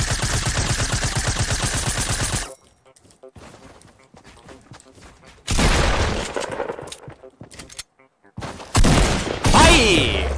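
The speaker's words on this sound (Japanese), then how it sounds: "どこだ、銃声聞こえたけど、ここかな。" Rapid automatic gunfire in the Fortnite video game rattles loudly in a steady burst, then drops to quiet footsteps and movement, followed by further loud bursts of shots and effects, with a player talking at times.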